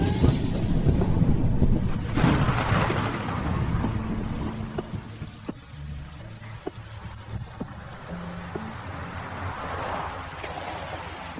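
Steady rain falls through a storm while a deep roll of thunder swells and fades at a middle distance. A few scattered knocks and drips come through later as the rain keeps up on its own, with no speech.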